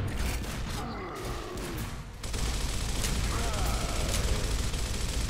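Gunfire rattles in a video game shooter, with loud, dense bursts and rapid overlapping shots running almost continuously, while players talk over the shooting.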